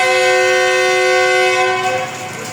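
A Pakistan Railways Green Line train sounds a loud, sustained horn as it passes near the line between Gujrat and Rawalpindi, the steady blast holding for about two seconds before easing slightly.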